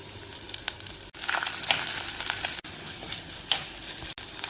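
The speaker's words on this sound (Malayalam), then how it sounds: "അടുപ്പത്ത് ഒരു ചട്ടിയിലേക്ക് വെളിച്ചെണ്ണ ഒഴിച്ച് ചൂടാക്കി കുറച്ച് ചെറിയ ഉള്ളിയും ഇഞ്ചി ചതച്ചതും വെളുത്തുള്ളി ചതച്ചതും കറിവേപ്പിലയും ചേർത്ത് വഴറ്റാം" Shallots, crushed ginger, crushed garlic and curry leaves sauté in coconut oil in a clay pot, giving a loud, continuous sizzle broken by a few short gaps, with no voices.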